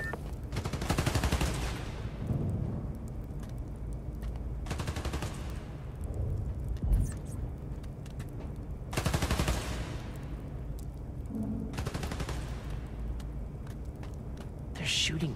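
Bursts of rapid automatic gunfire in the Spider-Man 2 video game on PS5, dense and loud, arriving in several long volleys over constant background action noise.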